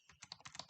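Quick, close clicks of fingers typing an email on a computer keyboard come in an irregular burst of about eight keystrokes, faint and with no talking.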